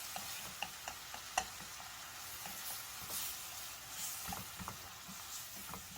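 Namul simmering in a pot with garlic and perilla oil gives a soft, steady sizzle and bubbling at close range, dotted with small ticks and faint clinks and no talking.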